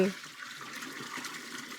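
Water poured steadily from a vessel, a continuous broadband splashing trickle that runs the whole short stretch at moderate, even loudness with no talk over it.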